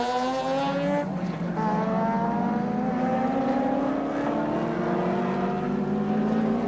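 Group C touring race cars from the 1984 ATCC round at Symmons Plains roar past at full throttle, several engines overlapping with rising pitches as they accelerate, loud and sustained.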